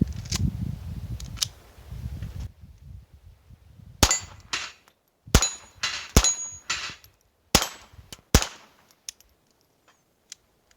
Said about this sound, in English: Let's try it in a Ruger Mark III.